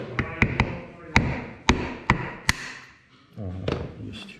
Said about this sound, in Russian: Попробовать молоточком.